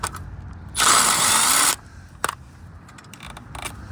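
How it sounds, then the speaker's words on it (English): A cordless impact driver fitted with a 12 mm socket, extension and swivel works on motorcycle exhaust bolts during a Yamaha R9 track build, firing one loud buzzing burst of about a second, then a few short clicks and taps nearby. "So I'm just using the same impact driver with the 12 extension with the little swivel on there."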